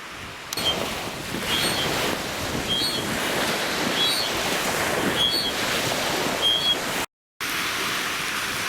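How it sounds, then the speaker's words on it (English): Wind blows across a lake during a moose hunt, a steady broad rushing roar with microphone buffeting, continuous and loud, with a brief cut near the end. "Hopefully this wind dies down."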